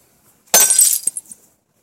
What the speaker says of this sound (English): I smashed the door off with this bat